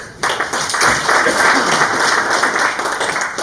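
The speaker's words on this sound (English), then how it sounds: "All right, round of applause." A convention audience at a baseball coaching talk applauds steadily, dense clapping starting after a brief pause and holding at an even, fairly loud level throughout.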